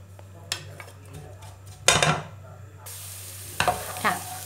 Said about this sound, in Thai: ตั้งกระทะใส่น้ำมันลงไปค่ะ